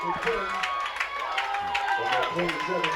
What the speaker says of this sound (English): nice, appreciative crowd here tonight, applauding the efforts of this JM team